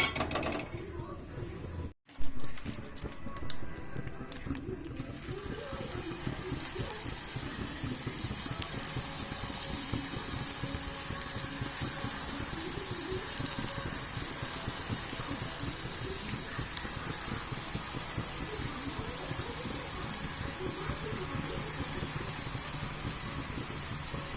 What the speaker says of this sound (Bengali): এইভাবে আমি সব জিলিপিগুলো ভেজে নিচ্ছি